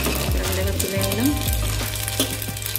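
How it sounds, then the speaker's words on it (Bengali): Chowmein pakora sizzling in hot oil, a loud continuous crackle close by, with brief scraping stirs of a spatula. "এরকমভাবে উল্টে নিলাম, নিয়ে আর এক পিসটা ভেজে নেবো"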